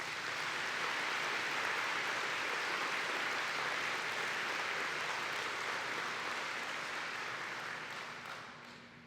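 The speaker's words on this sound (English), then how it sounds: "So please give them another round of applause." A long, steady round of applause from an audience at a church assembly, a dense hissing wash of clapping that holds evenly and then tapers off in the final seconds.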